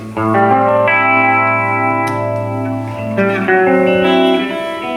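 Electric guitar played through a chorus pedal in tri-chorus mode, like two choruses in series, giving sustained shimmering chords that ring on with a wide, swirling thickness, loud and steady with no voices.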